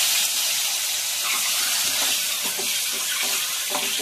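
Eggs frying lightly in oil, a steady broad sizzle and hiss throughout with faint crackles, no talk.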